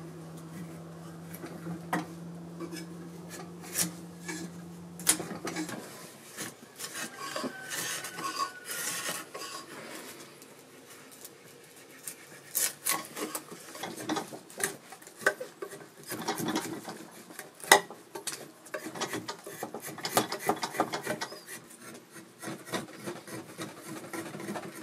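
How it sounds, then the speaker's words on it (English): A small draw knife shaving a birch self bow stave clamped in a bench vise, giving repeated faint scraping and rasping strokes in an irregular rhythm, close by and quiet, after a brief steady hum at the start. "I've just put it in a bench vise, and I'm using a little draw knife"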